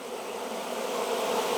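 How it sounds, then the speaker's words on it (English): Honeybees buzz steadily in an open hive during a July inspection, a dense, continuous drone that holds at even loudness close by, with no talk over it. "We got plenty of bees in there now"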